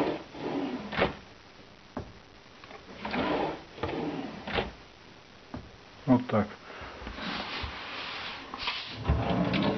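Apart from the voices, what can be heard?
soft-close kitchen drawer pushed shut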